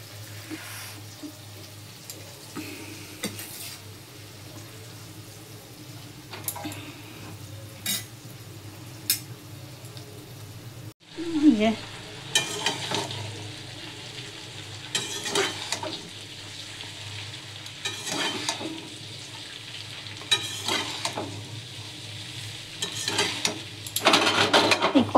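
Cooked rice is stir-fried in a wok, giving a soft sizzle with frequent spatula scrapes and metallic clinks against the pan, getting busier partway through.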